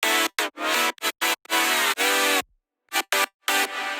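A bright, saturated synth chord with its low end cut, played in choppy gated bursts with a short silent gap before more stabs, close and loud.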